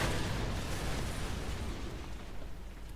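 Incoming tank gunfire in the War Thunder video game, a dense, continuous roar of blasts and rumbling impacts, loud and close throughout.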